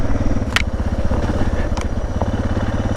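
A Suzuki DR650 dual-sport motorcycle climbs an off-road trail near Hamma Hamma in second gear, its single-cylinder engine thumping in a steady, loud, close rhythm, broken by a few sharp clacks and rattles from the bike or the terrain.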